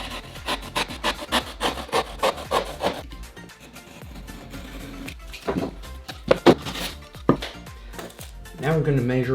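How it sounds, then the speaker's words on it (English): A drywall patch being cut for a wall repair, with quick rhythmic rasping strokes up close for a few seconds, then scattered scraping and handling noises. "So we're going to add actually 2 inches to each side to cut the patch 6 inches by 6 inches."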